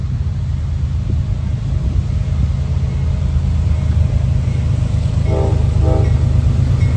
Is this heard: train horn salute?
yes